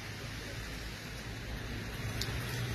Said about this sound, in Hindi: 1445 ने पहला रमजान ते बारिश जड़ी है तड़ातड़ पूरा दिन